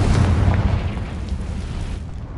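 A Confringo blast spell going off in a video game, a loud, dense booming burst that fills the opening second and then rumbles and fades out over the next two.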